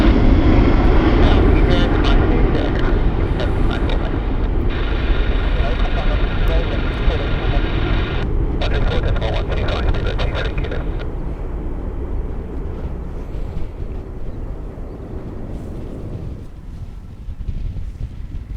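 A large passenger jet departing Gatwick Airport gives a loud, broad engine roar mixed with wind buffeting on the microphone, slowly fading over eighteen seconds, with people talking underneath.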